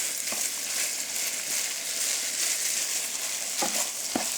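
Butter sizzles steadily in a pan for homemade pasta sauce, a continuous hiss with a few soft clinks from utensils near the end.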